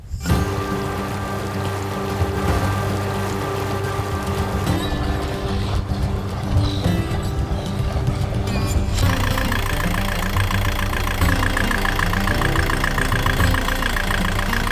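Loud, steady rumble of twin boat engines idling nearby, a continuous low drone with a rhythmic mechanical chatter that thickens partway through.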